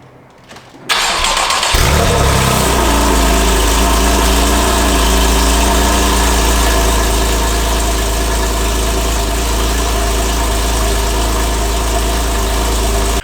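A Porsche 911 engine cold-starts with a short crank after a quiet second, then settles into a loud, steady, rumbling idle that holds for the rest of the clip with no one talking.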